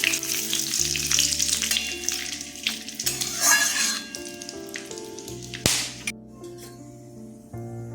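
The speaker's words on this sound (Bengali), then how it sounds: "ফোড়নগুলো ভাজা হয়ে গেছে" Hot oil sizzles and crackles steadily as dried red chillies, bay leaves, cardamom, cinnamon and cloves fry in a pan, with occasional clinks of a utensil and a low background hum.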